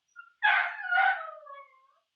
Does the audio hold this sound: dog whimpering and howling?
yes